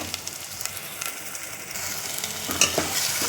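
Masala frying in oil in a pan until the oil separates, a steady close sizzle with light scraping stirs, a few sharper spoon clinks and a brief burst of crackle near the end, no voices.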